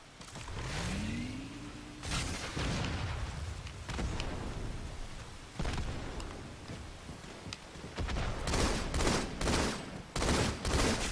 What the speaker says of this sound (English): Was that a nade? Please tell me that was a rocket or something.